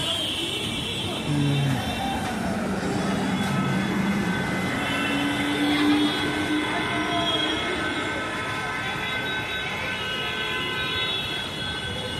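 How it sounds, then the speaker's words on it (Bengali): A metro train pulls into platform 1 at a station near Kolkata with a loud, steady rumble, squealing wheels and a brief horn-like tone. Faint voices carry under the continuous roar. "তো 1 নম্বরের ট্রেনটা আসুক 1 নম্বর প্ল্যাটফর্মে, তখনই আমরা যাব।"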